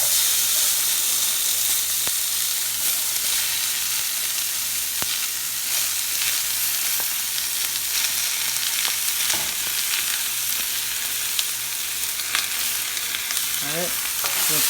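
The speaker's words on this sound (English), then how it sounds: "Now I'm gonna add in the onions to this." Onions sizzle and crackle as they fry with whole spices in hot oil, a loud, steady hiss that runs close up the whole way through, with a brief burst of stirring near the end.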